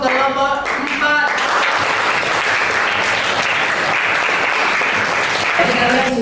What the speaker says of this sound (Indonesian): kita beri apresiasi atau tepuk tangan untuk kelompok 4